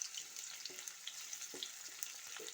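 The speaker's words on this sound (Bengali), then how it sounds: "প্রথমে আমি তেলের উপরে দুটো তেজপাতা আর এলাচ দিয়ে দিয়েছি।" Bay leaves and cardamom frying in hot oil in a kadai, a steady soft sizzle with a few faint scattered pops and light stirring touches, alone and fairly quiet.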